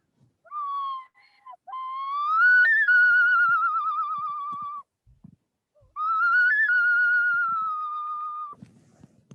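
A whistle imitating a loon call: two long, wavering, mournful tones, each rising with a brief upward flick midway, loud and clear against near silence with faint rustles between.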